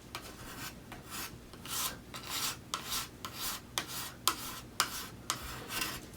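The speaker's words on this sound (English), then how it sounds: "you're going to do the same thing to clean up the top here. Just gentle scraping." Gentle scraping on the finish of a wooden hand plane: a rhythmic series of short, dry rasping strokes, about a dozen in quick succession, close and fairly soft, with no talking.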